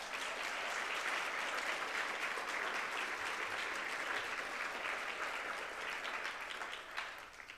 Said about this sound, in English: please give a round of applause for our sponsors